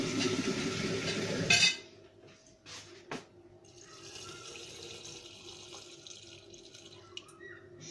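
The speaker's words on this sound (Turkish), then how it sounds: "Şimdi üzerine soğuk suyumuzu ekliyorum." Cold water poured into a jar of homemade apple cider vinegar in a kitchen: a loud, splashy pour lasting under two seconds, then a quiet stretch with faint trickles and small clinks.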